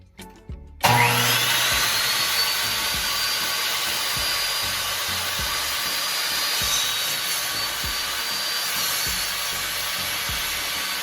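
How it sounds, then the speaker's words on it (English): A miter saw cuts an angle through a board for a wooden blanket ladder: a close, loud motor whine starts abruptly and holds steady with rough cutting noise throughout. "I had to adjust my miter saw so that I can still have enough room to work for the best"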